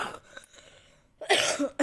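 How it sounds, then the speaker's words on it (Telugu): A woman suffering from a cold and fever coughs in two short, harsh bursts near the end, close to the mic, after a stretch of quiet room noise. "ఇప్పుడు నాకు ఫుల్ దగ్గు వస్తుంది"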